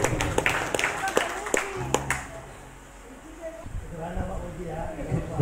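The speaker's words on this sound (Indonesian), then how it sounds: "Tepuk tangan buat Pak Fauzi dulu." A few scattered claps from an audience at a gathering, spread unevenly over the first couple of seconds alongside talking voices, then fading into murmured speech and room noise.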